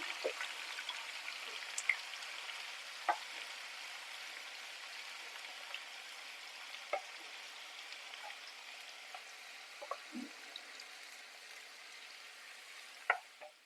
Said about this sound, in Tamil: நீல வாக்கில் கட் பண்ணி வச்சுருக்கிற இந்த ஆனியன் எல்லாம் சேர்த்து பொன்னிறமாக வறுத்து எடுத்துக்கலாம்